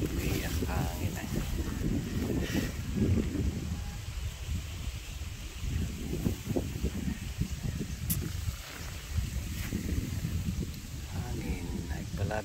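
Steady wind gusting through a backyard garden, a broad continuous rush with swelling and easing gusts and rustling close to the microphone, with voices talking intermittently over it.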